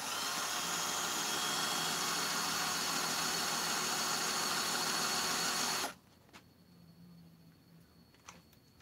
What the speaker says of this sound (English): I'm drilling into it, I think.